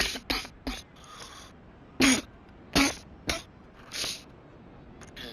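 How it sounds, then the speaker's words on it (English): A person coughing near the microphone, a string of about eight sharp, close coughs and throat-clearing bursts in uneven clusters, with quiet gaps between them. "Sorry about the coughing, guys."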